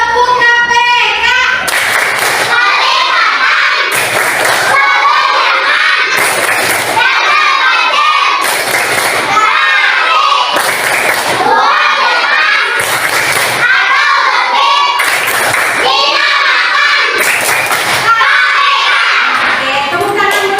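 Classroom of children doing a rhythmic clapping chant, loud regular bursts of hand claps repeating every couple of seconds, mixed with children's chanted voices filling the whole stretch.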